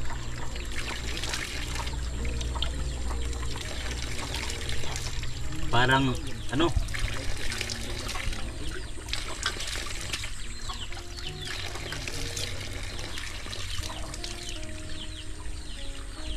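Clean drinking water pours and trickles steadily from an outdoor source, a continuous splashing stream close by, with birds calling faintly in the background and people talking over it.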